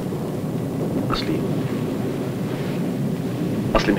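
Steady rain and storm wind hiss through a thunderstorm, with distant thunder rumbling softly and faint brief crackles, a continuous even wash heard alone without talk.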